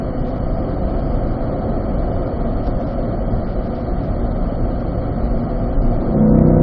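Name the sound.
Corvette accelerating on a race track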